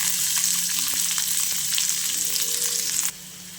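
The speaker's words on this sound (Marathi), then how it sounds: "पॅनमध्ये तेल घातलेलं आहे लसूण घालूया" Garlic sizzles in hot oil in a pan, a steady close frying hiss with faint crackles and light stirring clicks that drops suddenly to quieter hiss near the end.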